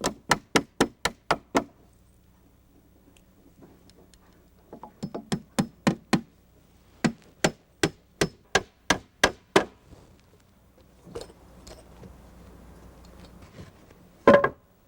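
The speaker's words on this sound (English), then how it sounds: "At the top, I nail through the rim into the carriage and add a clip." A hammer drives nails through a deck stair rim into the carriage: several quick bursts of sharp, close wooden knocks, each a rapid run of evenly spaced blows separated by short quiet gaps, with one last heavy strike.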